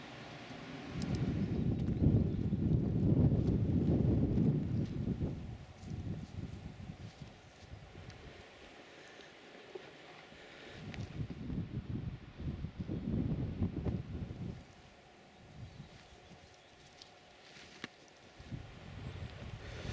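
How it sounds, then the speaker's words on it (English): Strong, blustery wind buffets the microphone on a mountain walk up from Bowness Knot in Ennerdale, rising and falling in loud rumbling gusts with quieter lulls between them. "But that wind, you know, you can feel it now. It's getting stronger the higher up I'm getting."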